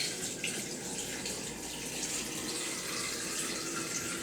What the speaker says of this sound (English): So we're just going to pour this on top of the eggs.